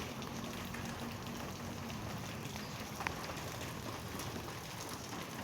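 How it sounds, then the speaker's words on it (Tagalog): Steady rain falling over an outdoor produce market in Sultan, a continuous soft hiss of drops on surfaces with one brief louder tap midway, even and ambient throughout. "Inabot po tayo ng ulan."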